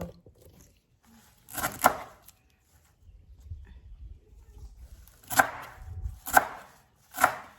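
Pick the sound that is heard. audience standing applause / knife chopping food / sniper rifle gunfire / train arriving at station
knife chopping food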